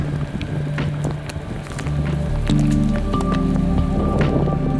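Steady rain patters down on wet ground and surfaces in misty green mountains of the Dolomites in Italy, a dense continuous hiss with scattered drips, close and fairly loud, with no talking.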